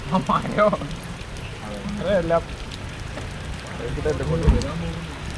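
Steady patter of water dripping from trees after rain, with people talking nearby over the constant background hiss.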